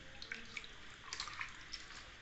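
Tap water runs steadily while goat mutton, about one kilogram, is rinsed a second time in a home kitchen, a soft continuous splashing with light drips and no talk.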